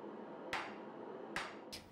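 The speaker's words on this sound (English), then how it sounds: "I'll do that through a combination of work with the press and the hammer." A hammer strikes an axe head during hand forging, three sharp metallic blows spaced irregularly against a steady workshop hum.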